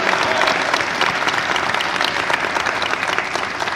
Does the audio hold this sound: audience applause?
yes